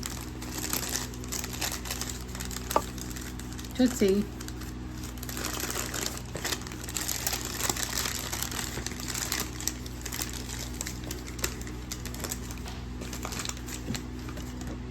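A cat batting at crinkly paper indoors gives a few light rustles and crinkles, including a brief burst of crackling, over a steady background hum, with a short spoken word.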